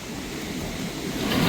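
Close, continuous rush of rough sea waves mixed with wind buffeting, swelling slightly louder toward the end.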